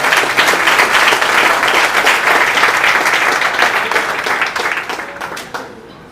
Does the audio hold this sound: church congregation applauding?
yes